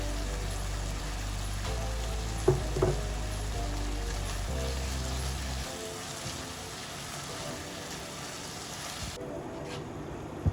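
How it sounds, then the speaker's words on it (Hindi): Chicken and capsicum fry in a pan with a continuous soft, rain-like sizzle and crackle, steady and close, with a few louder pops and a low hum that fades partway through. "इस स्टेज पे आके हमने इसमें कैप्सिकम डाल देना है और कैप्सिकम डाल के हमने इसको 3 मिनट्स के लिए सिर्फ फ्राई करना है।"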